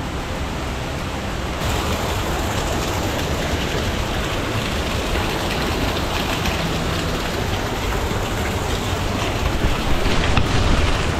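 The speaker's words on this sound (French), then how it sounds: "Je sais pas si on voit bien la pluie, mais ça tombe." Steady heavy rain hisses continuously on a family hike to the Boeuf and Pilon basins and the Niagara waterfall, a dense even wash of noise with no voices.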